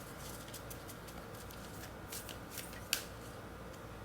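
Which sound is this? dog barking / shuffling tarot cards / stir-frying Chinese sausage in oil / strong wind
shuffling tarot cards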